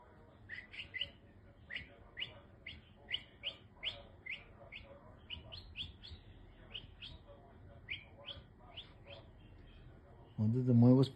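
A pet siskin chirps and sings in a steady run of quick, high, bright notes at close range, with a voice speaking under them and a louder burst near the end.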